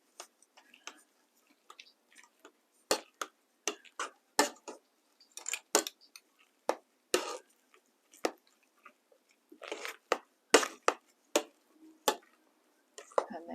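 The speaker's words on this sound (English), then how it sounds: "Just keep mashing as you go" Potatoes are mashed with butter in a pot, heard as a steady run of soft squishing thumps and light clicks against the pot, close and fairly quiet.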